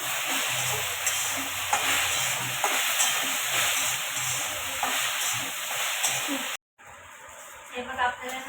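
Loud, steady sizzling of food frying close by, with stirring scrapes and a faint voice underneath. It cuts out briefly near the end, then resumes.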